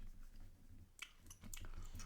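Soft, wet chewing sounds up close, a steady rhythm of squishy bites with faint clicks, and no talking.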